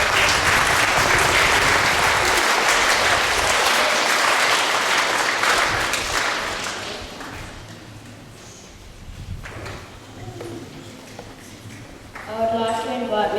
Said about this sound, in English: Can we please have a round of applause for the award?